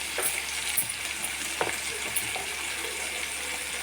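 Ginger goes into a pan of soft-cooked meat and fries with a steady close sizzle, with a few light stirring clicks and scrapes over the hiss.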